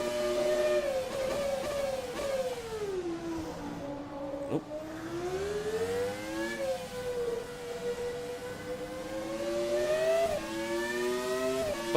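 Williams FW16 Formula 1 car from the ASR mod in a racing simulator, its engine wailing loudly and steadily through gear changes, the pitch sweeping up and dropping back repeatedly; a brief exclamation from a voice.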